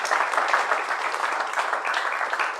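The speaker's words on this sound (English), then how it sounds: "Give him a round of applause." Sustained audience applause fills the room, a dense steady wash of many hands clapping at full volume, with no speech on top.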